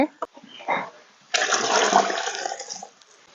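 Masoor lentils poured into hot oil set off a sudden loud hissing sizzle lasting over a second, which then fades. A few brief knocks and faint voice sounds come just before it.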